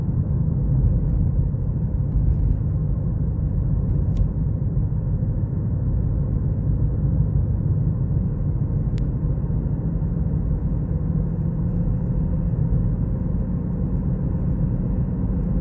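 A 2017 Ford Escape with 62k miles accelerates fairly hard from a stop, its engine and road rumble holding steady and loud throughout, with no clear breaks marking the gear changes.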